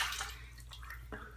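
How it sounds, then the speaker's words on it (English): Water splashes as a face is wetted by hand before a no-shower wet shave, a few soft, close splashes and drips over a quiet background. "let me go ahead and just re-wet my face"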